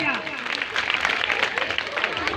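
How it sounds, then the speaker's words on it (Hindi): Audience at an NCC Day celebration skit bursts into loud, dense applause and crowd noise, with voices talking over the clapping throughout. "नेताजी के जवाब के लिए जोरदार तालियां"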